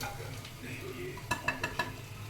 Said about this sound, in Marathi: जरा कांदा परतला आहे तेलामध्ये